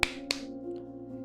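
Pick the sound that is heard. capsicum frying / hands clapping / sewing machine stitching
hands clapping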